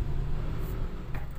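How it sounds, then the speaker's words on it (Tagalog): A car engine runs loud and rough through an exhaust pipe with a hole in it, a steady low rumbling drone held close by for the whole stretch with no voices. "Grabe, ang lakas ng tunog ng tambutso ko, yung pinaka tubo,"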